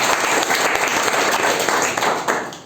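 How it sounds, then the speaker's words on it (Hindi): Audience applause at a Smart Value direct-selling business seminar, a dense, steady wash of many hands clapping close and loud for nearly three seconds, with no talk over it. "एक जोरदार ताली।"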